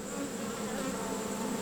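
Honey bees drone in a dense, continuous buzz from an open hive with drones present, loud and close with a steady hum and no talking.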